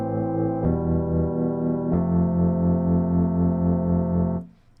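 Sad chord progression played on a synth in FL Studio: three sustained, rich chords in succession, the changes near one and two seconds, held evenly and loud before a quick fade.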